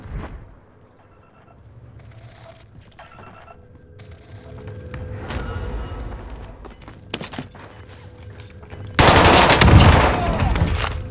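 Rapid bursts of Owen gun fire in the video game Warzone on Rebirth Island, sporadic at first, then a loud sustained volley near the end.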